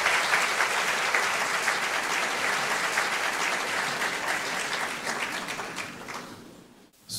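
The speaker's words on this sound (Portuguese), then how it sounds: "Auditório aplaude." An auditorium audience at a rural congress panel applauds steadily for several seconds, a dense, full clapping that gradually thins and fades to silence near the end.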